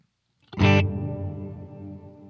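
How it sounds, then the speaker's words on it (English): A single loud note on an instrument run through a variable crossover pedal, with digital hall reverb applied only to the low end, strikes abruptly and then rings out in a long, smooth decaying tail. "I've got a digital hall reverb here on the low end."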